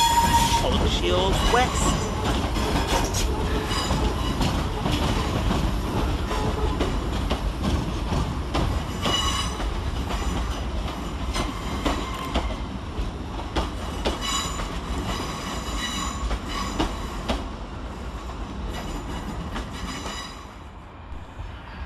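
A ScotRail train pulls out of Glasgow Central station, with rolling wheels, rhythmic clickety-clack over the rail joints and some squeal, loud and near before slowly fading, while a voice speaks briefly over it.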